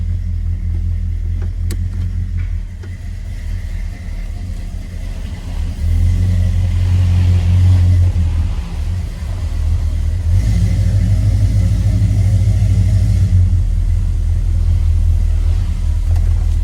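A 1972 Oldsmobile Cutlass engine rumbles steadily close by as the car pulls away, a deep low drone swelling louder partway through and holding, with no talking over it.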